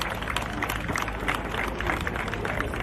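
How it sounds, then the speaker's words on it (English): Applause from an audience at an outdoor parade ceremony, a steady dense wash of clapping hands with crowd murmur, continuous and fairly distant for a few seconds. "Please let's give them another round of applause."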